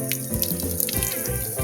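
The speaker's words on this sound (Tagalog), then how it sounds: "ito yung bomba namin bomba may tubig yan" Water gushing from a household water pump at a new house, a steady splashing flow into a basin with small irregular spatters, close and alone without talk.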